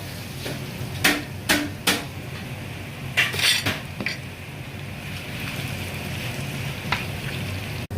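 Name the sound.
tempering with curry leaves and asafoetida frying in oil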